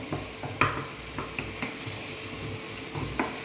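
Onions sautéing in oil for a paneer chapati sandwich, giving a steady, fairly close sizzle with a few light clicks of a spoon stirring against the pan.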